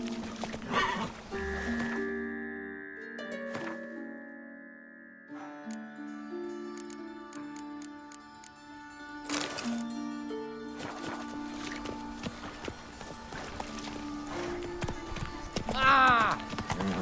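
A horse gallops in The Witcher 3 video game, its rhythmic clip-clop hoofbeats running under sustained game music, with a neigh and other game sounds rising near the end.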